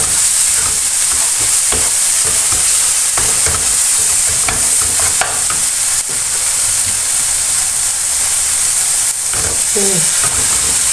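Boiled cauliflower and peas are stir-fried with garlic and tomato in a hot pan for dhaba-style aloo gobi matar, a loud continuous sizzle with repeated scraping and clinking of the spatula.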